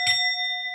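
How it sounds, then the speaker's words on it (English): A single bell strike rings out clearly and sustains as a steady, bright tone that slowly fades, alone with no voices. "Where's the bell?"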